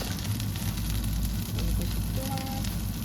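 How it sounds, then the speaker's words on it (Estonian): Shredded kataifi pastry frying in butter in a pan, giving a steady, close crackling sizzle that holds evenly throughout with no talk over it. "ma viskan pannile koos võiga ja siis, kui ta praeb, seda läheb tegelikult ise juppideks"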